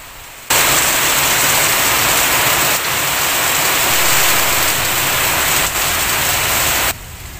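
Heavy rain pours down in a dense, steady hiss that stays loud and even for several seconds, cutting in abruptly and tailing off near the end, with no voices.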